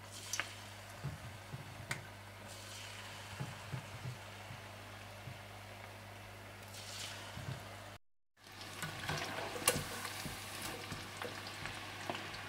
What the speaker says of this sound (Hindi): अच्छे से डीप फ्राई कर लीजिएगा।